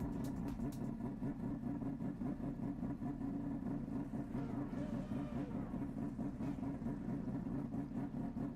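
A simulated race car engine in a racing video game drones steadily at a low, throbbing pitch, a deep tugboat-like chugging that stays constant and fairly quiet throughout.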